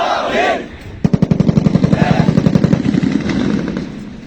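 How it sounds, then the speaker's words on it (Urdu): Ceremonial gunfire at a police recruit passing out parade in Sargodha rings out as a rapid, rhythmic burst of closely spaced shots, loud and sustained for several seconds after a brief stretch of quiet crowd ambience. "یہ آپ نے جو فائرنگ سنی ہے"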